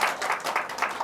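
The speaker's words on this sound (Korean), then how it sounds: "함께 박수로 한번 영광을 주님께 올려드리면 좋겠어요" A church congregation claps together at a seventh-anniversary thanksgiving service, a steady, fairly close patter of many hands with slight swells in intensity and no talking over it.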